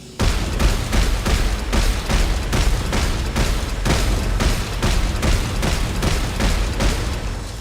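A weapon in Dead Space 3 fires repeatedly at a steady rhythm of roughly two to three loud, punchy shots per second, sustained for about seven seconds with no pause.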